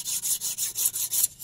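A hand file scraping back and forth across metal, smoothing hammer-struck edges while a wire tool is made by hand; about seven even, rasping strokes in a steady rhythm, close and fairly loud with no talking.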